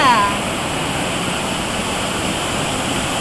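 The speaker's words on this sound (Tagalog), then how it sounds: "Pang-surf nga siya talaga, no? Ang lalakas ng alon, eh." Strong surf waves at Baler beach produce a continuous loud roar of breaking water, steady and broad throughout.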